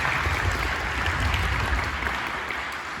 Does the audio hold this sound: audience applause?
yes